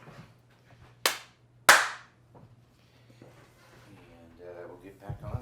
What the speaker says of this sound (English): I'm gonna do another clap.